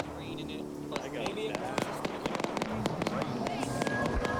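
Explosive rocket launches and blasts from an RPG in a Russian Civil War military game, with sharp repeated bangs and crackling impacts over a dense battle din while voices talk over comms.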